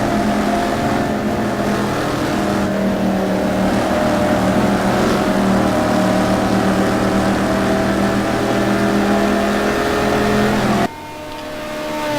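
Mercedes and Porsche GT2 race cars lapping Spa-Francorchamps in a Super Pole session, a loud sustained engine drone with layered droning tones that holds steady for about eleven seconds before dropping away abruptly.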